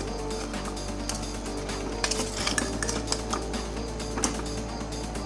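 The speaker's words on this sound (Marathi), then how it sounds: "मिक्स करून घेऊया सगळं" A metal utensil clinks and scrapes against a pan, stirring chickpea and potato masala with salt in an irregular rhythm, close and moderately loud, over a steady background hum.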